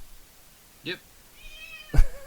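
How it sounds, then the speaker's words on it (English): A house cat meows twice in the background, a short mid-pitched call followed about a second later by a louder, drawn-out meow, with faint room noise between. "Hey, you got a cat in the background."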